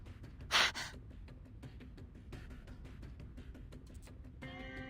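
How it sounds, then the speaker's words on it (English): A woman in the Reverse 1999 video game gasps once, sharply and loudly, followed by quieter breathy sounds against a low background of ambient game noise. "Her mouth forms into a wordless gasp as she takes in a gruesome scene."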